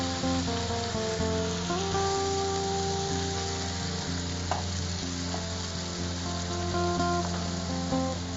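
Oil sizzles and crackles steadily in a pan while making green tamarind chutney, a continuous close frying hiss with occasional pops.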